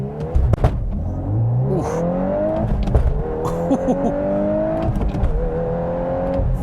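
A 2022 Volkswagen Golf R with a six-speed manual launches hard, the engine revving and pulling up through the gears with audible shift breaks, loud and close from inside the car, with a brief exclamation near the start.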